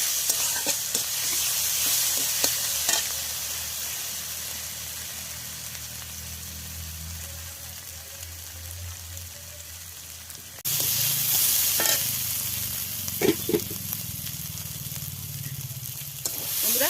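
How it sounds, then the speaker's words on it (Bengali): Ginger and garlic paste fries in hot oil in a pan for a Bengali-style puti fish dish. A steady, close sizzle runs throughout with scraping stirs, and it grows louder and brighter partway through. No voices are heard. "আদা রসুন দিয়ে দিলাম এবার ভালো করে কষিয়ে নিতে হবে"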